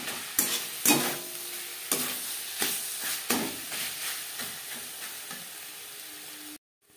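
Chicken fries in spices in a pan, sizzling steadily while a spoon scrapes and stirs in a regular rhythm of distinct strokes, close and clear with no talking.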